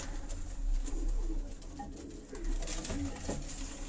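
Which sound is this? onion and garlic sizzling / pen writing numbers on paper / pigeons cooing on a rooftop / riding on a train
pigeons cooing on a rooftop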